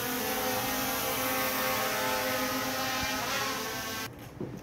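A DJI Mini 3 Pro drone with genuine propellers hums loudly and steadily while flying forward and backward, the pitch shifting slightly, before the sound suddenly drops away near the end.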